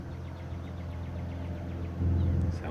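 A distant airboat engine on a lake drones steadily as a low, humming rumble. It swells noticeably louder near the end as the boat approaches.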